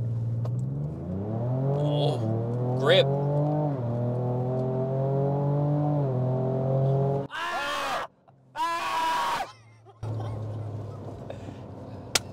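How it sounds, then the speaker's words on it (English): Engine of a 2023 Ford Ranger Raptor pickup revving steadily during a brake-boost launch, then surging loudly as it accelerates, with brief gaps and brief speech nearby. "Let's brake boost launch it, baby."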